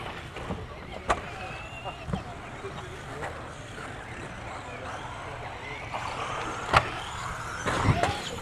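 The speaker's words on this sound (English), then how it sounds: "Cars coming around for their first lap." Radio-controlled race cars in a Shamrock RC Sportsman Class A-Main race on their first lap, with motors whining as they pass at a distance and occasional sharp clicks and knocks from the track.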